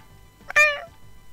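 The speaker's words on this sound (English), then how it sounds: "I like the little meows he makes when he falls." A cartoon cat character in the Doodle Champion Island Games video game lets out a single short, bright meow as it falls, clear and close against quiet game background.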